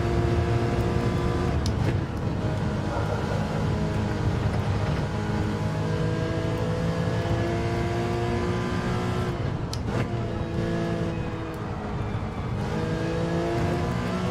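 A car in Gran Turismo 7 holds a steady, loud engine drone, with a thin transmission whine running through it for the whole stretch and a brief shift in pitch near the end.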